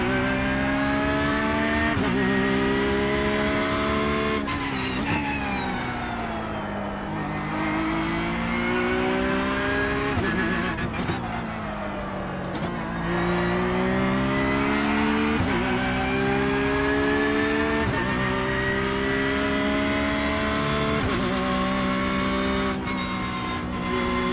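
A car pushed hard around the Nürburgring Nordschleife in December, its mid-pitched engine loud and close throughout, rising and falling with revs through gear changes, with a hint of tire squeal and no talking.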